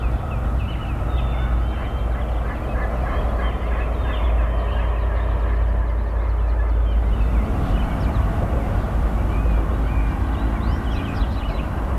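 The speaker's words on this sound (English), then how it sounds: "We're hearing gobbling everywhere. You know, there's at least 3 or 4 birds gobbling" Several wild turkeys gobbling from their roost at dawn, repeated loud rattling gobbles overlapping from different distances across twelve seconds, with a continuous outdoor background beneath them.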